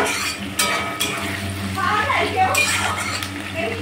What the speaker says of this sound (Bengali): এই যে পেঁয়াজটা বেরেস্তাটা একটুখানি বেশি তেল দিয়েই ভেজে তুলে নিতে হবে